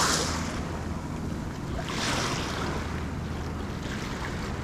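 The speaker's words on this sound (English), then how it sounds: "It's doing like a nose spin because the motor's armed." A 3D printed RC boat spins in the water with its motor running, giving a steady whirring wash of spray and water noise under heavy outdoor wind buffeting across the whole stretch.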